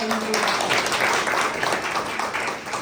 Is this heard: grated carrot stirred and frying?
no